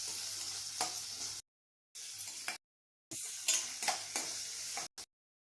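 Mustard seeds and ingredients sautéing in oil for sago upma, a close, bright sizzle heard in several separate stretches cut by silent gaps, with occasional stirring scrapes.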